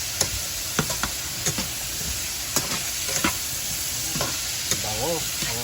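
Carrot and celery sautéing in a pan for chop suey, a low steady sizzle broken by repeated sharp scrapes and clinks of a utensil stirring the vegetables, close and fairly quiet.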